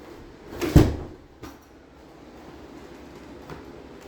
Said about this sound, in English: when you shut this door now